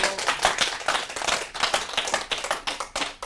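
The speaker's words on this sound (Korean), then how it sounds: "저 선생님께 박수 한번" A small audience applauds a volunteer who played the patient in a fracture and splinting first-aid class, with dense, moderately loud clapping that stays fairly steady for a few seconds.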